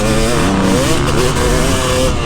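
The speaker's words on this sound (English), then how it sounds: "Oh, I love this two-stroke" Two-stroke motocross bike engine running close by with a steady buzzing drone and slight pitch shifts, a voice talking over it throughout.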